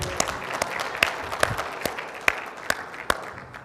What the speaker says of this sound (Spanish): vamos a dar su aplauso al compañero